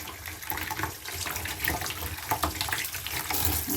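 Water draining away through a plastic container holding a begonia potting mix with floating polystyrene bits, a continuous gurgling, splashing trickle heard close up with no voices.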